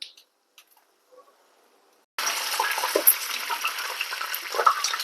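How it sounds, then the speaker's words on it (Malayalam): Mustard seeds and dried red chillies sizzle in hot oil. A quiet stretch with a few faint clicks gives way to a sudden, loud and steady crackling hiss that carries on to the end, heard close up. "എണ്ണ ചൂടായിട്ട് നമ്മൾക്ക് 1 സ്പൂൺ കടുക് ഇട്ട് കൊടുക്കാം"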